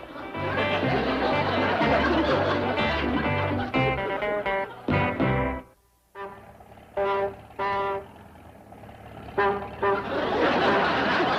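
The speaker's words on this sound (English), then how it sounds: "must you honk that horn?" Several loud car horn honks in short bursts, some long and some quick, over a busy din of music and chatter, from a 1960s sitcom.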